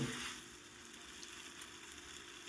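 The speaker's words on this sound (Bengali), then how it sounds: "হলুদটাকে দিয়ে নেড়ে ছেড়ে আমি দু থেকে তিন মিনিট মশলা দিয়ে কষিয়ে নেব" Vegetables and small rohu fish frying in oil with turmeric and spices, a continuous soft sizzle that starts a bit louder and settles into a steady, quiet hiss.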